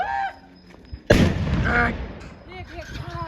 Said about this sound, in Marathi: लय जोरात वाजते बापरे फटाका. ब्लास्ट बघा फक्त.